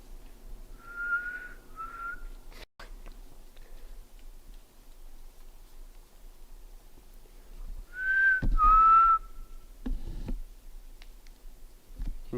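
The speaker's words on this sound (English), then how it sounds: "There are 2, maybe 3 faint whistles in the distance." Two or three faint whistled notes carry from a distance through a quiet forest while camping, a pair early on and another pair later, with a few scattered clicks between them.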